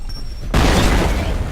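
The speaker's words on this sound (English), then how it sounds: "Now these grenades also explode on impact." A grenade bursts on impact in the shooter game F.E.A.R., a single loud, close boom that erupts suddenly midway and then rumbles on as a dense, roaring blast tail.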